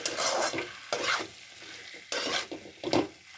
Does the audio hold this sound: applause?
no